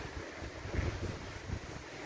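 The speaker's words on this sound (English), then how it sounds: "See, the wind's dragging it that way as well." Outdoor wind blowing steadily with a broad, rushing hiss and low buffeting gusts against the microphone, near and continuous throughout.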